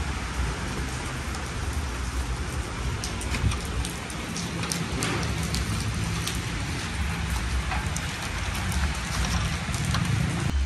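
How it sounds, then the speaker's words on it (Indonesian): Steady rain falls without a break, a dense, even hiss of drops hitting surfaces, close and fairly loud, with no voices over it. "Dan ini hujan lagi."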